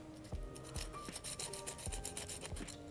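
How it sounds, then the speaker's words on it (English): A metal file drags along a Porsche 3.2 engine part during a top-end rebuild to take off a small burr. It makes a series of light, scratchy strokes at a fairly regular pace, close by and soft, with no voices. "I just take my file like this. I'm just gonna drag it along here"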